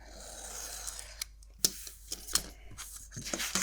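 Scissors snip through a sheet of vellum paper in a few close, crisp cuts, with short pauses and rustling between strokes, no voices.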